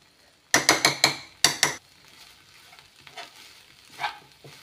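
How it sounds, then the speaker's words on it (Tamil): A spoon stirs a filling of green gram, sugar and coconut in a pan: five sharp scraping strokes come in quick succession, then softer, scattered scrapes follow. "இதை இந்த 2 நிமிஷம் சிம்மில் வச்சு கிண்டி விட்டுக்கோங்க"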